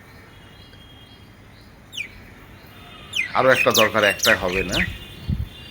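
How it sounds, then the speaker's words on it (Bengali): Birds chirp faintly in a rooftop vegetable garden, with a brief high call early on before a person starts talking over the soft background calls. "পাখির ডাক শুনতে পাচ্ছেন, এটা সম্পূর্ণ প্রাকৃতিক।"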